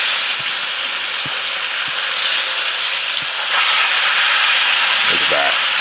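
Flank steak sizzling hard in a hot pan outdoors, a loud continuous hiss with a few faint clicks and a brief murmur near the end.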